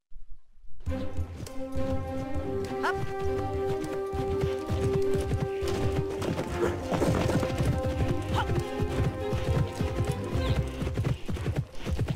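Horse hooves clip-clop steadily in the Alexandra Ledermann riding game, a continuous rhythmic trot with an occasional whinny, set over a layer of game music and ambience.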